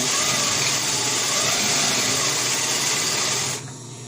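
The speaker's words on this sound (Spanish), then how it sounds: "Y cosemos y nuevamente le damos dos o tres cosidas más para que agarre más fuerza y cosemos hacia el otro extremo" Close, loud sewing machine stitching a fabric face mask, a continuous fast whirring run that cuts off abruptly near the end.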